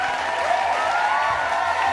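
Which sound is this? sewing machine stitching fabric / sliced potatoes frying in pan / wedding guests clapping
wedding guests clapping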